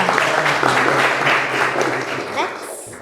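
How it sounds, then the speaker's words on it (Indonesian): A room of people claps for a student group after their presentation in a university class, a short, dense burst of applause with a voice talking over it. "Tepuk tangan buat kelompok 2."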